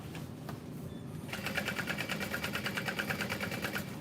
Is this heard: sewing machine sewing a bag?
yes